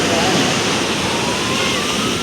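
Sea waves wash onto a beach in a loud, continuous rushing surge of water close by, steady broadband hiss and churn with no pause.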